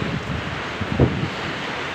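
Strong gusty typhoon wind roars across the microphone in a dense, buffeting rush, steady and loud with a brief surge in the middle, in Batangas, Philippines.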